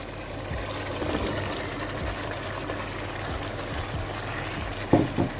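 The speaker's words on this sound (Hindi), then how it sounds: "तो अब हम इसमें जो है वो शलजम वो ऐड कर देंगे।" Chopped turnips go into a pot of fried spice masala for shaljam gosht, giving a steady close sizzle with a brief louder splash near the end.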